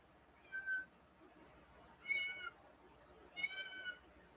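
Cat meowing to be let out of the house, three separate plaintive meows spaced a second or so apart, faint and fairly close in an otherwise quiet room.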